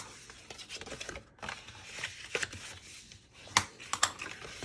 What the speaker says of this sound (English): I'm going to take my bone folder and I'm just going to burnish all these lines.